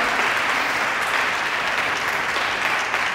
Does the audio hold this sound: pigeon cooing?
no